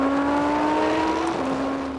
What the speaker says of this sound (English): A V10 naturally aspirated engine.